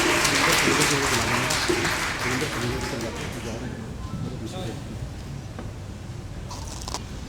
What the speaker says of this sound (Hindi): जोरदार तालियों से अभिनंदन करें।